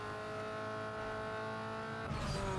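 A car slides through a turn in Need for Speed Underground 2, a sustained engine drone with tire noise that shifts near the end, fairly quiet and heard alone.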